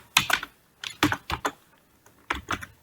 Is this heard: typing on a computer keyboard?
yes